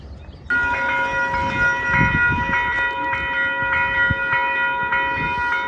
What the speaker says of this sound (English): I feel like I hear the train in the distance